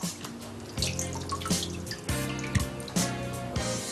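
A papermaking mould is dipped back into a vat of water to clear pulp from its edges, giving close, splashing sloshes and drips in uneven bursts, without speech.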